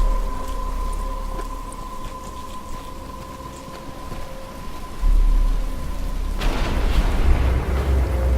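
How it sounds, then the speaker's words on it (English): Rain and rolling thunder in the video game Batman: Arkham Asylum, a steady downpour hissing throughout with a deep rumble building near the middle and a louder burst of storm noise toward the end. "But it's starting to rain."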